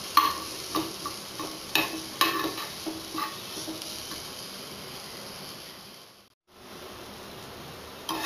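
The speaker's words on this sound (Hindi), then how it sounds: "मसाले को हमने अच्छे से भून लिया है।" Masala with red chili powder and turmeric fries in a pan for an aloo matar curry, a soft crackling sizzle punctuated by rhythmic spoon taps and stirring scrapes, quiet and close, briefly dropping out near the end.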